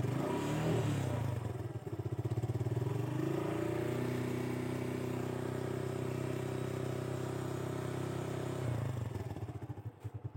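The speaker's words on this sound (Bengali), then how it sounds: "বর্তমানে একে গিয়ার আছে, দেখতে পাচ্ছেন গিয়ার এক আছে এখানে," A Suzuki Gixxer motorcycle with its original exhaust runs in first gear, its engine tone rising into a sustained, even drone, then easing back down near the end.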